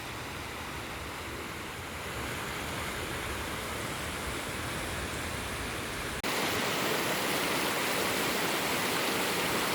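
River water rushing steadily where the Kutach and Haslach rivers join into one, a dense broadband flow heard from above near the Rechenfelsen rocks, growing louder and closer partway through.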